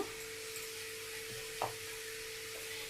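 Bitter gourd pieces and curry leaves frying in hot oil give a soft, steady sizzle throughout, with a brief sharper crackle near the middle.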